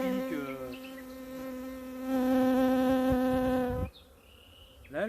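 Honeybees buzzing steadily around a hive, a close, continuous droning hum that rises in loudness for a while, then suddenly drops to a softer buzz.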